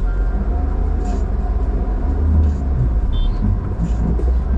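A car drives along the Bandar Anzali to Rasht road in Gilan, northern Iran, giving a steady, loud road and engine rumble with faint higher noises now and then.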